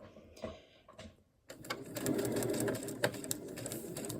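A domestic sewing machine stitches a foundation paper pieced Pride flag quilt block, starting with a few brief bursts, then running steadily at close range from about halfway on.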